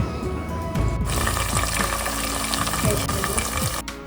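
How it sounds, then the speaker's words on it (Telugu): Cumin seeds and slit green chilies hitting hot oil for a village-style mutton curry, a loud sizzling crackle that flares up after a second and keeps spitting steadily close by. "ఆయిల్ కాస్త వేడెక్కాక జీలకర్ర, మనం ముందుగా కట్ చేసిన పచ్చిమిర్చి వేసుకోండి"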